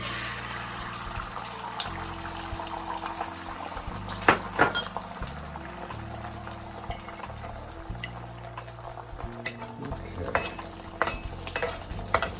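An egg frying in hot peanut oil in a pan, a steady close sizzle with occasional clinks and scrapes of a utensil stirring. No one speaks.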